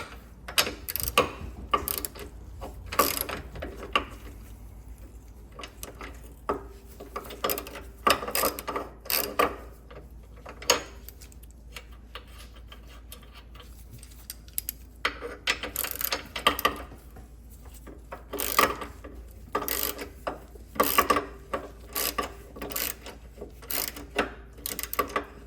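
Ratchet clicking in bursts while tightening control arm bolts on a Porsche GT3, short runs of rapid clicks separated by pauses, close and moderately loud.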